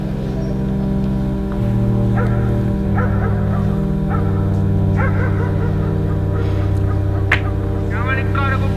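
A dog barks and yips repeatedly from a played-back recording, sharp bursts scattered over a loud, steady low hum, with no talking heard.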